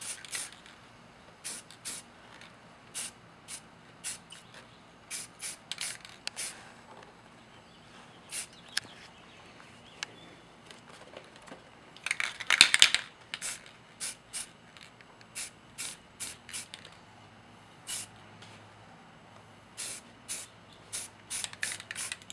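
Short bursts of an aerosol spray can coat an Iron Man Mark 38 Igor helmet, with repeated quick hisses in an irregular rhythm and one longer, louder blast partway through.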